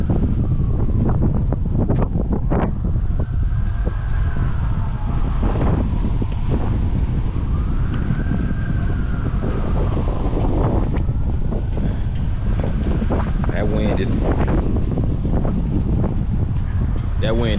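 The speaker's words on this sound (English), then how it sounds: "That wind is really picking up." Strong wind gusts buffet the microphone on an outdoor walking tour of city streets in Montgomery, Alabama, a steady loud roar with broadband rumble throughout, while traffic swishes past and a voice talks over it.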